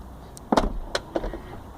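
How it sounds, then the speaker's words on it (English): The soft-close door of a Mercedes-Benz W221 S320 CDI draws itself shut in a short series of close mechanical thuds and a brief motor whir, with no one talking. "Finally, the soft closed doors that I mentioned."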